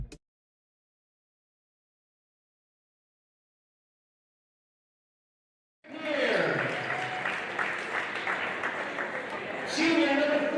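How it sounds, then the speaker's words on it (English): After several seconds of silence, a crowd in a high school gym breaks into clapping at a varsity boys basketball game, a full burst of applause with a voice calling over it and swelling near the end. "It's okay to clap."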